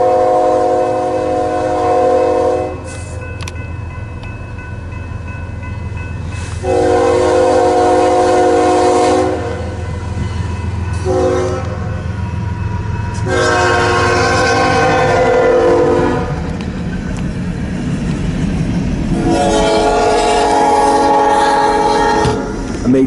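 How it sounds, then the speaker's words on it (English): Southbound empty coal freight train passing, with repeated loud horn blasts over a continuous rumble and rolling rail noise, close and prominent throughout. "And this is a southbound empty coal drag."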